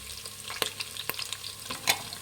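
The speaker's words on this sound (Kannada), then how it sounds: "ಇವಾಗ ತರಕಾರಿ ಹಾಕ್ಕೊಳ್ಳಿ, ಹುಳ್ಳಿಕಾಯಿ ಹಾಕ್ಕೊಳ್ಳಿ, ಕ್ಯಾರೆಟ್ ಹಾಕ್ಕೊಳ್ಳಿ" Onion frying with vegetables and carrot in a pan for rice bath, a continuous close sizzle with scattered crackles and the clatter of stirring, no voices.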